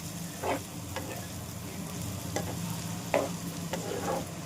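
Onions fry with bitter gourd in a pan for a masala curry, a soft steady sizzle under occasional spatula scrapes and stirs spaced a second or so apart. The sound stays fairly quiet and close, with no talking.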